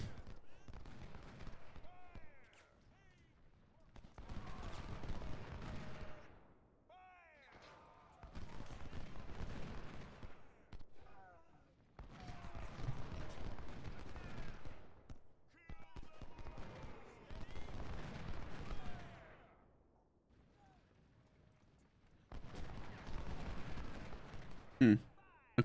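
Repeated booming volleys of heavy cannon fire in the video game Ultimate General: Civil War, Battle of Cold Harbor, rumbling bursts of a few seconds each separated by quieter gaps, with faint chatter between.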